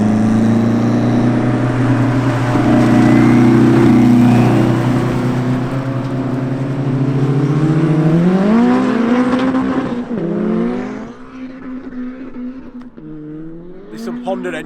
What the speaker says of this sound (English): That's a quarter-mile burnout that it's just done.